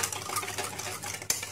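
Close-up stirring of a dalgona coffee mixture of sugar, instant coffee and hot water, a steady scraping swirl that ends in a single sharp clink against the cup.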